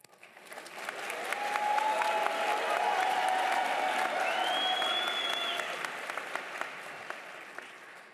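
A 2022 commencement audience breaks into sustained applause that swells over a couple of seconds, holds as a dense wash of clapping with a few whistles rising above it, then gradually thins out.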